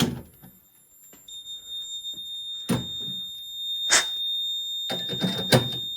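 A fire alarm detector sounds during a walk test of an alarm board, giving a thin, steady high tone over intermittent knocks and thumps close by.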